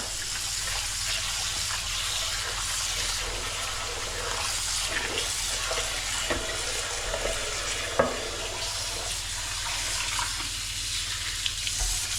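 A tap runs steadily while dishes are washed up in a kitchen, a constant broad hiss of water with a few faint knocks, near and moderately loud.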